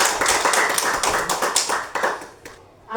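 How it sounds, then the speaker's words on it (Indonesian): A group of schoolchildren clapping their hands together at a primary school, a dense run of sharp claps loud and close for about two and a half seconds before fading to near quiet, with a final clap at the end. "Kita tepuk tangan dulu."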